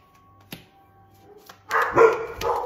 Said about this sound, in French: Désolée pour les chiens qui ont fait du bruit